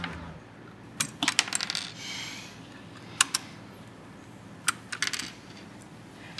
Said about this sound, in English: Can you take a couple of these keycaps off?